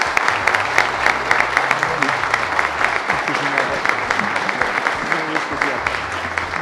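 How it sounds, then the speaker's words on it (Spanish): An audience applauds steadily and densely after a talk, the clapping loud and continuous from start to finish with a voice heard over it. "Un aplauso."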